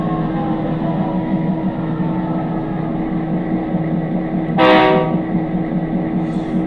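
A SoundTraxx sound-decoder model locomotive diesel engine rumbles steadily as it is notched down toward idle, loud and close with tonal harmonics, interrupted midway by a short horn-like blast.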